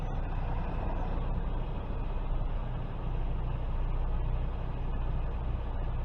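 A semi truck backing its trailer straight back, its engine giving a steady, loud, low diesel rumble that holds unchanged throughout, with no talking.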